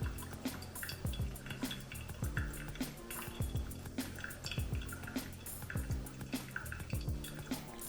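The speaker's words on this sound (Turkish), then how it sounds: "dıştan içe 205 mililitreye kadar döküyoruz." Water is poured over ground coffee in a V60 dripper while brewing La Palma & El Tucan Heroes Sidra, with a steady stream of soft splashing and dripping in a repeating rhythm, close and fairly quiet, without speech.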